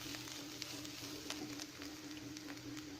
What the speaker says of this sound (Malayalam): ഇതിൻ്റെ പച്ചമണം മാറുന്നത് വരെ നന്നായി വഴറ്റിയെടുക്കാം.